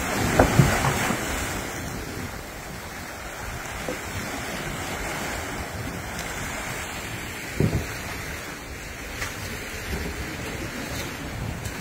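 Sea water washes in along the shore in a steady roar of surf, with wind buffeting the microphone and a few louder splashes rising above the constant wash.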